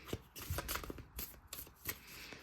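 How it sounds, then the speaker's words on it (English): Cards riffle and snap in quick irregular bursts, close and crisp, a few shuffles in a row with no one talking. "Ignore my awful shuffling skills."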